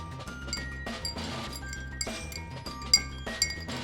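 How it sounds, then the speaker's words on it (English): A spoon stirs a coffee and Rumchata cocktail in a glass, making a quiet series of light clinks and taps with a couple of sharper knocks near the end. "Stir the crap out of that drink."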